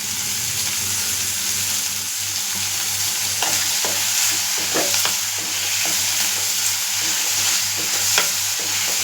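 Tomatoes sauté and sizzle loudly in a hot pan, a continuous close frying hiss broken by repeated scraping and clinking strokes as they are stirred.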